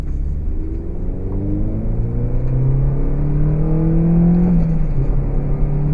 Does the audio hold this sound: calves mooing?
no